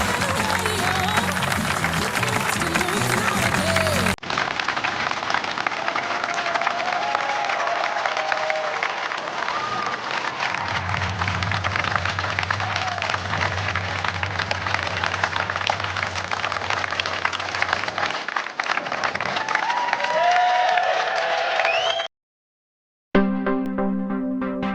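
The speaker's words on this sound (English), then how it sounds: "check out this great crowd as we say goodbye" Large outdoor crowd at the Minnesota State Fair in Falcon Heights claps and cheers continuously for about twenty seconds, a loud dense patter of applause with whoops, ending abruptly before a brief silence and a jingle.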